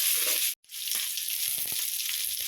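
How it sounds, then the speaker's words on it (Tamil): Shallots, curry leaves and chillies sauté in a pan with a loud, dense sizzle, broken by a brief drop to near silence before the hissing resumes with soft spoon scrapes. "இதெல்லாம் வதக்கி விட்டுடலாம்"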